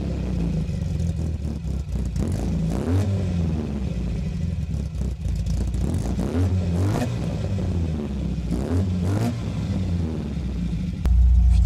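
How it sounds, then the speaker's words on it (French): Engine of an MG Sebring, a rare car, running and revving at close range, a deep rumble that swells and falls in several throttle blips and ends in a louder surge, with no talking. "On va démarrer cette MG."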